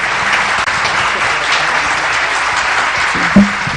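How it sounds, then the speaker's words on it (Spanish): A studio audience claps for a departing guest on a television health and travel program, a steady, loud wash of applause filling the room without pause. "vamos a despedir a la doctora Yasmín de León con un fuerte aplauso"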